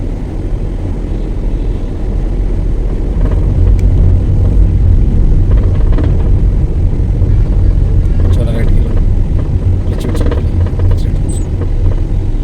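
A car pulls away in second gear as the clutch is let out, its engine a low steady rumble from inside the cabin with occasional light clicks and knocks.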